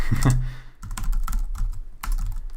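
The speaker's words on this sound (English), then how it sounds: "Now I just need to type correctly." Steady, close typing on a computer keyboard during a coding session, with dense rapid keystrokes and a short pause midway, heard alone without speech.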